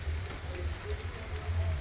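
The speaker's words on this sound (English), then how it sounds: "And we're going to let them sizzle" Pork sizzles steadily on a barbecue grill, a continuous crackling hiss over a low rumbling hum, with no voices.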